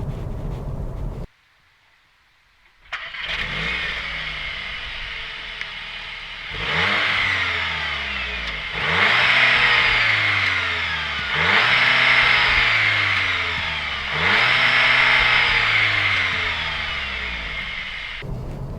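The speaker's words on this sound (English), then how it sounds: "We'll cut to a shot now with me revving it at standstill with sadly with a soft limiter" A 2021 Audi S3 Saloon engine revs up repeatedly while stationary, rising in pitch and hitting a soft limiter several times before dropping back, loud and close, after a brief silence.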